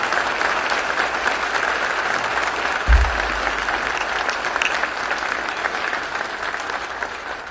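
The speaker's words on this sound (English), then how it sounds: "Would you join me in showing one more round of applause for the senior advisor to the President of the United States" Steady, dense applause from a large crowd at a public event honoring Ivanka Trump during Mike Pence's visit to Jacksonville, Florida, sustained throughout with a single low thump near the middle.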